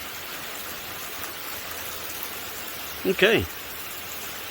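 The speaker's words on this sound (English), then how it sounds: "Yep, it's raining out that way." Faint summer rain falls steadily outdoors as a soft, even hiss, with someone briefly speaking over it.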